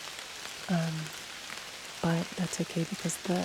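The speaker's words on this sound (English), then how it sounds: "It's starting to rain a little bit harder" Steady rain falls outdoors on public land during a deer hunt, a continuous hiss of drops on surfaces close by while someone speaks quietly over it.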